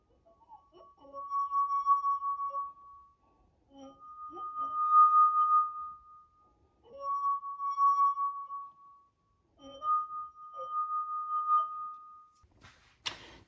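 Four drinking glasses holding different amounts of water ring in turn, each struck lightly and holding a clear, sustained tone of similar pitch before fading, with quiet gaps between them.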